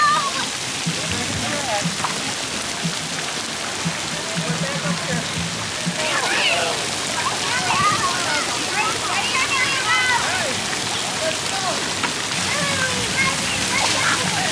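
Water splashing and spraying at a resort pool splash pad, a steady broad wash of droplets and sloshing with children's voices and chatter mixed throughout.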